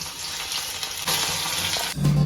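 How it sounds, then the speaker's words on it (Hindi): Spices sizzle and crackle in hot oil while tempering pigeon pea (arhar) dal, a steady frying hiss that flares louder partway through. "अरहर की दाल में तड़का लगाने के लिए जा रही हूँ"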